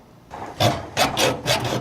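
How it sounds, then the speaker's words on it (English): A saw cutting through the seal of a shipping container holding rice, heard as four close, loud, rasping strokes in quick rhythm with no talk. "Sawing off the container seal"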